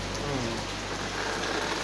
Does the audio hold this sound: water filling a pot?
no